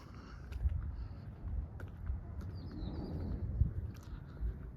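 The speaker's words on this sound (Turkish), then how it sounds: "Kuş sesleri geliyor." Several birds chirp and call in short, scattered bursts over a quiet outdoor background, fairly distant and soft.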